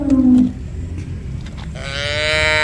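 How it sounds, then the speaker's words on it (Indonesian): A cow moos twice in a toy-animal play setting, first a short low call at the start, then a longer, rising drawn-out moo near the end, close and fairly loud against a faint background. "Wah, ini ada sapi lucu"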